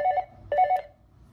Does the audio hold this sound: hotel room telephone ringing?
yes